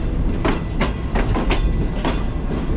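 Express train pulling into Hyderabad Junction railway station, close and loud, wheels thudding over rail joints in a rhythmic clickety-clack under a steady rumble.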